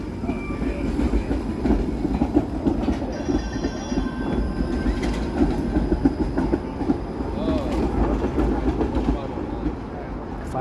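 The 509 Harbourfront streetcar in Toronto rumbles past on its rails in the evening, a continuous close metallic roll with faint wheel squeal, amid city street noise and a person talking nearby.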